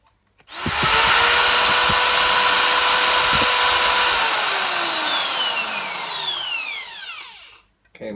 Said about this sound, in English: I'm going to drill this.